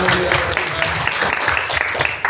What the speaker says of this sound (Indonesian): Tepuk tangan beri Tuhan.